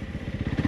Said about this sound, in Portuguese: é incrível a diferença de se andar com uma moto de 150 kg como esta